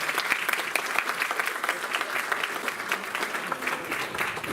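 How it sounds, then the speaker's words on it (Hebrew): Sustained audience applause fills the hall at a memorial ceremony, dense steady clapping from a large crowd throughout, close and full with no voices over it. "אני חושבת שמגיע להם מחיאות כפיים"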